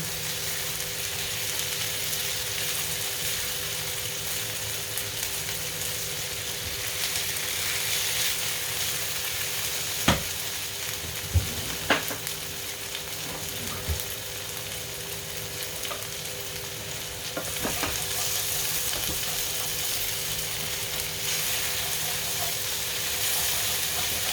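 Constant loud sizzling and hissing of venison searing in a tall pan for stew, with a few scattered clanks of a utensil midway.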